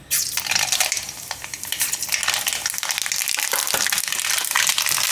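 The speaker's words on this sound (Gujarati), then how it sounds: "તેલ આપણું ગરમ થઈ ગયું છે. તો એમાં આપણે નાખશું રાઈ." Mustard seeds sizzling and crackling in hot oil in a pan, a dense continuous frying hiss with rapid popping, close and fairly loud throughout, no voices.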